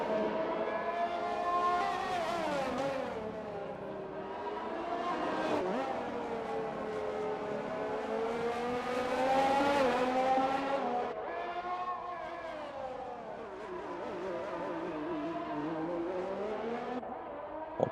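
Alpine race car in a racing video game, its engine revving up and down continuously through corners with a brief spell of wheelspin on corner exit, loud and close throughout.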